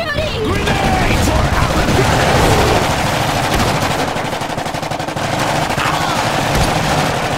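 Rapid machine-gun bursts and scattered gunshots fill a battle in the video game Iron Harvest, loud and continuous, with in-game voices shouting over the gunfire.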